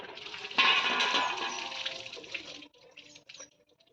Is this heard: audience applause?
no